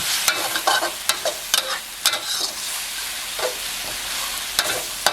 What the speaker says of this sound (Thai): ผัดไปเรื่อยๆครับ เนื้อเส้นของเรานะครับ ได้ที่แล้วนะครับ